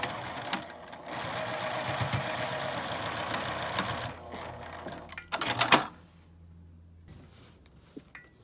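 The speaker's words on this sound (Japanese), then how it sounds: "線の上を縫います。" A sewing machine runs steadily for about four seconds, stitching a straight seam along a drawn line on fabric while making a lined zipper pouch from a single piece of cloth. A few short mechanical clicks follow, and then it goes quiet.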